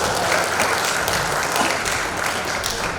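Applause at a plenary council session of the Malang regency legislature in Indonesia, a dense, continuous burst of clapping from a large seated assembly with no pause.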